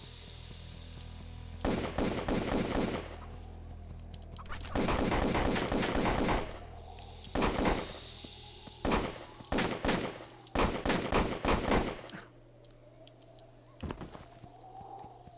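Gunfire in a PSP video game, several loud bursts of rapid automatic shots broken by short pauses, with a steady low background hum running underneath throughout.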